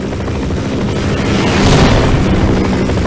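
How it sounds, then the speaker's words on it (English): Attack helicopter in the video game Half-Life, a loud, steady rotor drone with heavy low rumble, swelling slightly midway and holding close throughout, with no talk over it. "Hit that helicopter."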